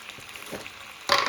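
Oil sizzles softly in a pan as pieces of murrel fish fry, then swells into a louder hiss near the end, close by.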